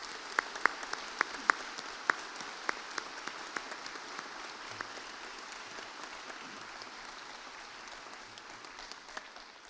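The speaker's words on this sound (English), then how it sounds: "I would invite you to join me now in a round of applause to express your gratitude" A graduation ceremony audience at Mary Immaculate College keeps up a steady, dense applause in a large hall, with a few sharp individual claps standing out early and the clapping continuing evenly throughout.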